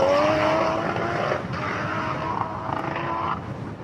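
Race car accelerating hard up the Pikes Peak International Hill Climb mountain course, a loud close engine roar climbing in pitch then easing, steady and continuous with no talk.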